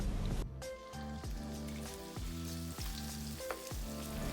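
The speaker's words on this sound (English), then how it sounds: "We're now going to start frying our prawns." Loud, steady sizzling of prawns frying on high heat in a hot pan, with crackling pops throughout and no speech.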